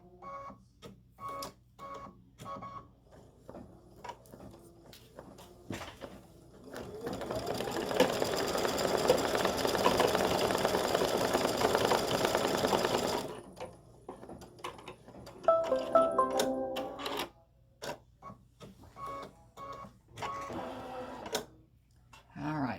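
An embroidery machine stitches a flower design into card stock for a Valentine greeting card, a steady rapid mechanical whir with ticking that runs loud and continuous in the middle, with quieter intermittent stitching bursts before and after.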